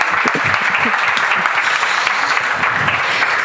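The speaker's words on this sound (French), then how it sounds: "On peut l'applaudir pour démarrer la journée." An audience applauds at a French agricultural business day opening, steady dense clapping from a crowd filling the whole stretch without a break.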